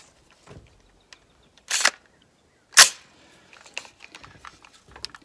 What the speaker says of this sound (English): We'll transition a little bit, fire off some rounds, and then I'm going to go to using the sight.